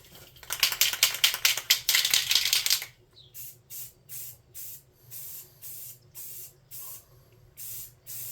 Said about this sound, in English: We'll spray this black real quick.